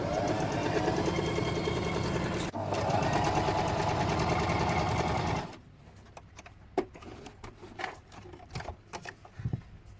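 A Juki HZL-355Z sewing machine running a small scallop zigzag stitch, a steady fast mechanical whir for about five seconds, then stopping and giving way to scattered clicks and handling noises.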